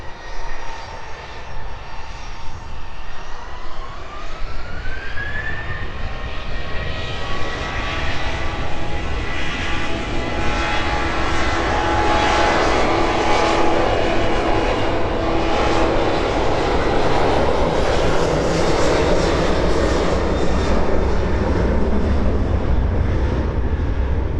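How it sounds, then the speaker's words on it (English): Ryanair airliner departing East Midlands Airport in the evening, engines roaring steadily and loud, with a rising whine early on, continuous throughout with no talking. "There it is, all lit up, ready to make a quick exit from East Midlands this evening, the Ryanair."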